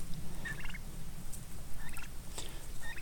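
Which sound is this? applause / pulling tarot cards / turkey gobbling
turkey gobbling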